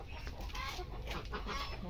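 Farm hens, including brooding ones sitting on eggs, cluck softly in a quiet, low-level coop murmur with faint background sounds.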